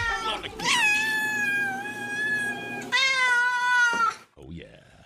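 A cat meows in two long, loud, drawn-out wails, close and clear, followed by a short softer cry.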